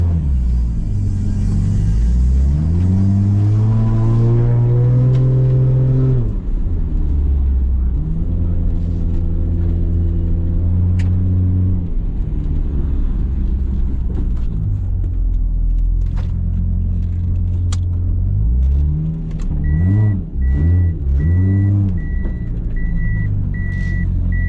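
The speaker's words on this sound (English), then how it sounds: "So the car's running now, leaving it running." A Toyota Soarer's engine idles and revs, the pitch rising and falling through several throttle blips, with a high beeping tone near the end.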